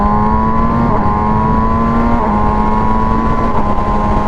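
MV Agusta Brutale 1000RS motorcycle from 2022, engine droning loud and steady while riding, with harmonic tones dipping and climbing as revs fall and pick back up in the same gear, plus constant wind roar.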